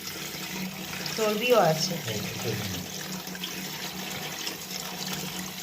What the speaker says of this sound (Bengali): চলো মাটনটা ধুয়ে পরিষ্কার করে রাখি